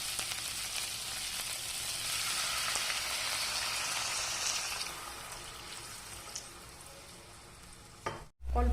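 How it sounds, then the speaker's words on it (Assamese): Chicken with banana flower and potato is stirred in a hot pan for an Assamese recipe, giving a steady close sizzle and scraping that fades slightly before a brief pause and a soft thump at the end. "মই আকৌ এবাৰ এনেকৈ ভালকৈ লৰাই দিম।"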